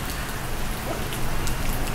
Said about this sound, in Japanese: というかだいぶ土砂降りの雨です